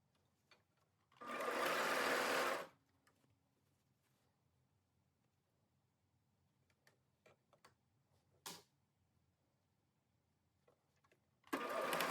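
Sewing machine stitching a bodice seam, one short whirring burst of about a second and a half, then a quiet stretch with small ticks and handling clicks, and another burst starting at the end.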